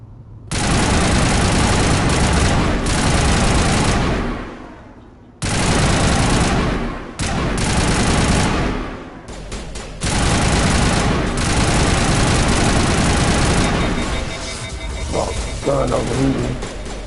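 Sustained bursts of video game gunfire fired until the weapon overheats, long loud roaring volleys broken by short gaps, with a voice heard faintly near the end.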